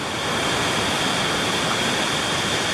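A creek in the Smoky Mountains near Elkmont rushes loud and close, a dense unbroken roar of flowing water with no voices.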